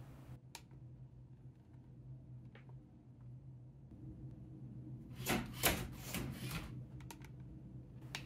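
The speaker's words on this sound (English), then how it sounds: "Here, I'll remotely lock the office door." A motorized smart lock built from LEGO parts turns the bolt on an office door, a brief burst of grinding, ratcheting motor noise in the latter half after a few faint clicks, then quiet ticks.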